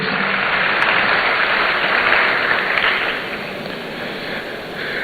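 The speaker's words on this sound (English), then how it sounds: "please clap for our next president" A university audience at the launch of a student entrepreneurship and enterprise development programme applauds in a dense, steady roar of clapping that eases slightly toward the end.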